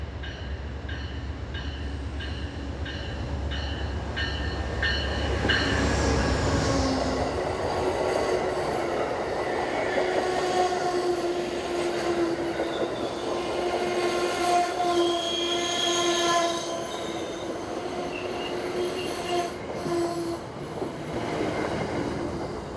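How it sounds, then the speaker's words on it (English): An Amtrak Genesis locomotive pulling a Northeast Regional passenger train in eastern Virginia sounds its horn as it approaches, then roars past with rumbling, clattering railcars and squealing wheels, fading slowly as the train moves away. "Genesis number 94 is the motive power for Northeast Regional Train 84."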